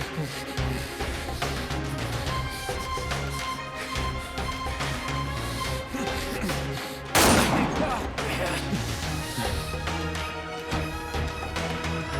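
Gunfire in a dramatic French-dubbed series scene: a sharp, loud burst of shots breaks out midway through a dense, continuous music-and-effects bed.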